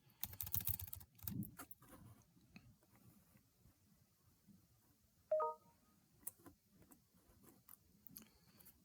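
Typing on a computer keyboard gives quiet, scattered key clicks in irregular short runs, close but soft, with a brief electronic beep partway through.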